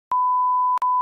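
A telephone line sounds a steady electronic tone that holds for most of a second, broken by a brief gap before resuming, clean and loud with no voices.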